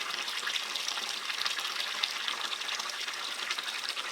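A lot of running water gushing steadily outdoors, a constant bright hissing rush that stays loud and even from start to finish, with no voices.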